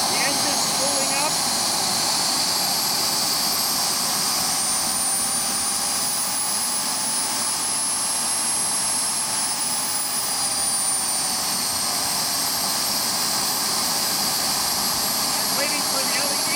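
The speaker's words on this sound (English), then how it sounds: "The engine's spooling up." A Fiber Classics Kangaroo model jet's turbine engine spools up in a loud, sustained whine whose high tones rise and shift, steady throughout, with a voice talking over it.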